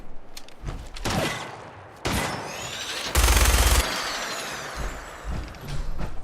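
Sustained gunfire in Fallout 4: a dense fusillade of rapid shots across the whole stretch, loudest in a heavy burst midway, with brief gaps between volleys and no talk.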